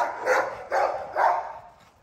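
XL pitbull dogs bark three times in a steady rhythm, loud and close, with a brief fading tail after the last bark.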